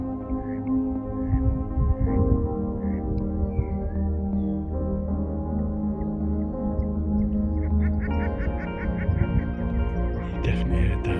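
Ducks quack in short, repeated bursts over a steady low hum at the coast, with a louder cluster of quacks near the end.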